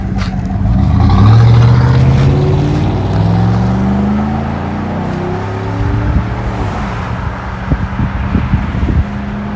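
A 2011 Chevy Tahoe with a 5.3L V8 and a black exhaust tip rumbles loudly up close, its deep exhaust note swelling briefly before settling into a steady, throbbing idle with some wind buffeting.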